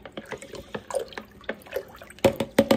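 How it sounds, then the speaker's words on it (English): Brine for fermented dilly beans is stirred in a container, giving short sloshing, clinking splashes in an uneven rhythm that end with a few louder knocks, near and alone. "just give this another stir just to make sure we're kind of"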